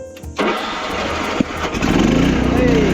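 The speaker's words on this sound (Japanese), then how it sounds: "さあ、エンジンかかんのかな" An engine cranks and catches after a cleanup job, sputtering into a steady, close, rough idle within the first second and running throughout, with someone speaking over it.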